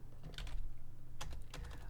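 Typing on a computer keyboard while writing code, heard as irregular bursts of quick key taps with short pauses between them, close and fairly quiet, with no talking.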